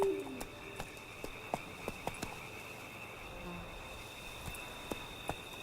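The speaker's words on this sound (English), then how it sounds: "Crickets and the owls." Night ambience in The Witcher 3: faint steady crickets chirping over a quiet background, with scattered soft clicks and calls, distant and low in level, no talking.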